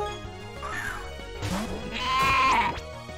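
A monster's cry in the Pokémon Uranium fangame, a wavering goat-like bleat with rising and falling pitch that swells louder toward the end over quiet game music.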